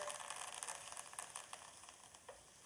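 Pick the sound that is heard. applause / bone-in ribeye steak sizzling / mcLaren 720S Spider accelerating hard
bone-in ribeye steak sizzling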